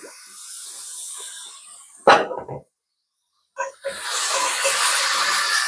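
Beef and vegetables in a hot pan hiss sharply as coconut aminos go in, a loud sizzle that cuts out briefly before surging back into a strong, steady crackle.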